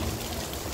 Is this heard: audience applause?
no